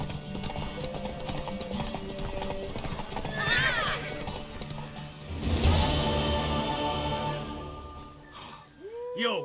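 A mare in The Witcher 3 whinnies and its hooves clip-clop in a steady rhythm, close and clear, amid game ambience with a voice briefly speaking.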